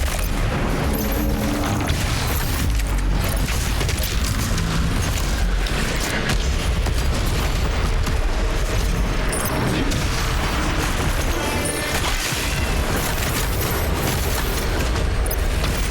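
Heavy gunfire and explosions from ballista shots in the video game Doom, a dense, loud, continuous barrage of booms and blasts with no pauses.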